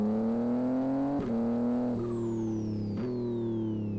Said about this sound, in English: that sounds like a pretty modern BMW engine, doesn't it?